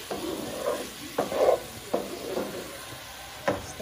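Rice being stirred and crushed in a frying pan while making mango rice, with intermittent scraping strokes and a soft sizzle, fairly quiet and close with no talking.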